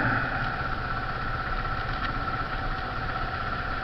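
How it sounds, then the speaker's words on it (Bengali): A warmed-up Yamaha R15 V3 motorcycle engine idles in a steady low hum, even and continuous, close by with no talk. "আমি ইঞ্জিন অলরেডি ওয়ার্ম আপ করে ফেলেছি"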